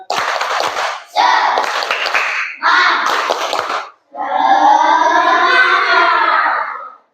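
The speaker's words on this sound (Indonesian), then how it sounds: "Tepuk semangat." A school class claps a rhythmic spirit clap in three bursts of quick, loud, close hand claps, then calls out together in unison.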